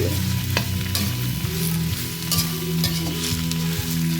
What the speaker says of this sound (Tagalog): Halo-haloin natin